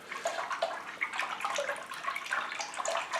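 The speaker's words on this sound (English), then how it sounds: "A nice vigorous stir to get it all the way down in." Wine kit must being stirred vigorously in a fermenter, a quiet continuous sloshing and swirling of liquid with rhythmic splashy pulses, close up and with no voice.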